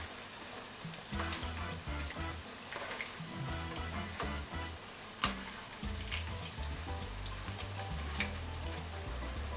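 Chicken nuggets frying in hot oil, a soft steady sizzle and crackle with scattered pops, faint and continuous, with occasional low clunks from cookware in the background.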